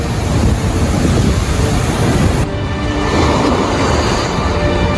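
Floodwater pours over a dam in Morbi, Gujarat, during heavy monsoon flooding, a loud, continuous roaring rush of water with steady broadband noise and wind buffeting throughout.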